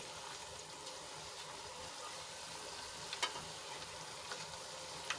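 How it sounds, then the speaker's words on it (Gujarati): Fafda, a Gujarati gram-flour snack, fries in hot oil with a faint, steady sizzle and occasional small pops, with no other sounds. "ફાફડાને બંને બાજુ સરસ રીતે તળી લીધા છે"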